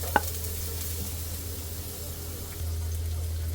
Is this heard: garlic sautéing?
yes